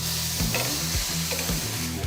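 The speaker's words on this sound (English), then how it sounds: "You ready for the sizzle?" Flank steak sizzling over direct heat on a hot charcoal grill burning hardwood briquettes, a loud continuous hiss and crackle close up, with low pitched tones and thumps pulsing through it.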